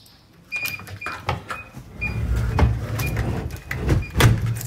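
A loosely screwed door creaks as it swings, giving repeated thin, high squeaks between thuds and rattles of the door moving, all close by and fairly loud.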